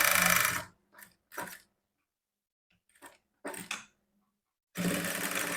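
A sewing machine stitches a folded blouse seam in several short whirring bursts, separated by quiet pauses, with a longer run at the start and at the end.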